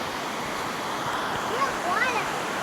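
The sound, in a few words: waterfall on Koh Chang Island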